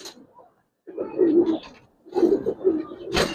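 A Giribaz pigeon, an old-breed bird, gives two clear bursts of low throaty cooing close by, separated by a short pause, with a brief hissy rustle at the end.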